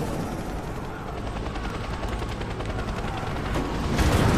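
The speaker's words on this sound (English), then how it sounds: "I'm fighting a helicopter?" Helicopter attack in the Rise of the Tomb Raider video game: a steady, loud rotor drone with rapid gunfire bursts, swelling louder toward the end, with no speech.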